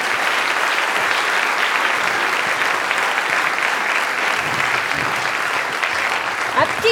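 Sustained, dense audience applause greets the Ballet Junior de Genève at the Swiss Performing Arts Awards ceremony 2022, a steady loud wash of clapping across a full hall with no pauses.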